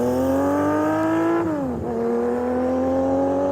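Benelli motorcycle engine revving loudly up close, a dense buzzing howl that climbs, drops sharply as the throttle closes, then settles into a steady high idle.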